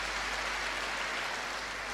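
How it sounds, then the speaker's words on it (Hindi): An audience claps steadily in a hall, a dense, even wash of applause at moderate volume lasting the full stretch without a break. "ताली तो बजाओ"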